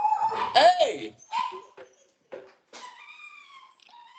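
A pet dog that has just got out of its cage gives a few short barks and whimpers close by, with a person's voice shouting and talking over the sounds.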